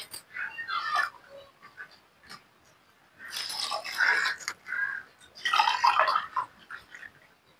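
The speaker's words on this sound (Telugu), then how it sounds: "మూడు గ్లాసుల నీళ్ళు పోసుకోండి." Water is poured into a pot of rice for onion biryani, making splashing, gurgling bursts that come and go in a few separate pours at moderate, close volume.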